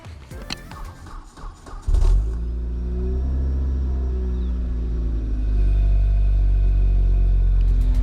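A car engine cold-starts, cranking and catching with a loud rumble after a couple of seconds of clatter, then settles into a steady, deep idle that rises slightly near the end.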